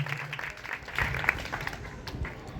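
Audience at a school reading quiz launch applauds a guest, steady moderate clapping from a crowd throughout.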